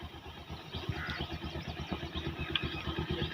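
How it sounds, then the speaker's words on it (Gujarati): A motorcycle engine fails to start, giving a loud, rapid run of low sputtering thumps that keep cranking unevenly without catching, close by and with no talk over it. "ફાઇનલ બાઈક ચાલુ ચમ નહીં થતું"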